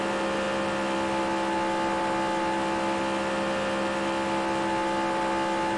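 A race car engine in NASCAR Racing 2003, during an ARCA Menards Series race at Talladega, roars steadily and loudly as it blows, a dense continuous whine with strong tonal hum lasting throughout without any voices.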